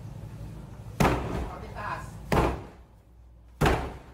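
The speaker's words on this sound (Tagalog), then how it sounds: "Nakadak ang pinto ng bahay kaya gumamit sila ng battering ram." Three heavy, booming impacts of a battering ram against a locked house door, spaced about a second apart, over a low rumbling background.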